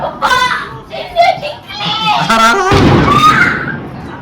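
Firecrackers burst outside during street celebrations of India's win: one sharp bang, then a rumbling crackle. Children and other voices chatter excitedly throughout.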